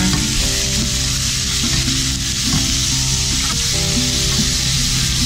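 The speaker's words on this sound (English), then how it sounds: "I'm just browning the meat" Chicken and pork pieces brown in a hot pan with a loud, steady sizzle that runs throughout, with occasional scraping and stirring and no talking.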